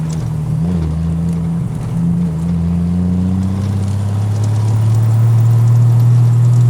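A 1968 Triumph TR250 engine pulling hard through a corner, a loud close-up drone whose pitch rises steadily as it accelerates, with no talk.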